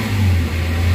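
A Toyota Avanza engine with low power and delayed throttle is held at 3,000 RPM, giving a steady, loud droning hum close by with no talking.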